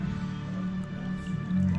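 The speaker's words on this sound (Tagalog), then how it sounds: "Bigyan natin ng konting tubig." Water is poured into a pot while backyard cooking crispy pata, giving a soft, continuous splashing, squishy trickle at low level over a short stretch.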